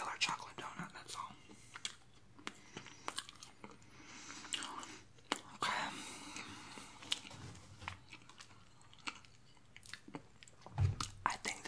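A regular chocolate donut is bitten and chewed very close to the microphone, with soft, moist chewing and a few sharper bites, and quiet whispering in between.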